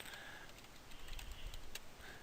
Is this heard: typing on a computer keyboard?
yes